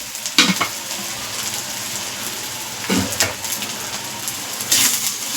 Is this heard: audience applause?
no